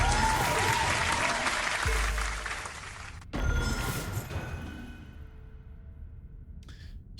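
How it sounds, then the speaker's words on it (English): A round of applause rings out during a ranked online Dune Imperium digital board game session, a dense burst that fades after about three seconds, then a second shorter swell that tapers off into quiet. "We'll give a round of applause for Ariana."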